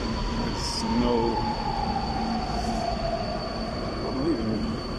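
A driverless automated metro train in Budapest runs steadily with a whining motor tone and wheel squeal, a continuous hum filling the background.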